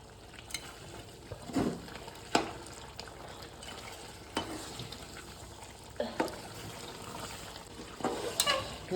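Curry being stirred in a hot pan, with repeated scraping strokes of a spoon at an uneven rhythm over a soft, steady sizzle, close and moderately loud, and no talking.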